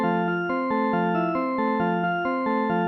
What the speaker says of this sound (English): But a sampled pipe organ sounds like this.